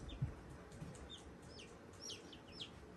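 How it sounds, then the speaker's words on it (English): Baby chicks peeping inside a container, faint scattered high chirps over a low rumbling background, several quick peeps clustered toward the end. "you're gonna stick your hands in there and grab chicks"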